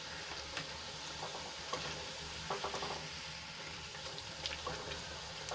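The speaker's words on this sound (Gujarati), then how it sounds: "થોડી જ પૂરી આપણી તળાઈને ઉપર આવી ગઈ છે" Continuous bubbling sizzle of millet and fenugreek puris deep-frying in hot oil, with occasional light clinks and stirring sounds, fairly quiet and close.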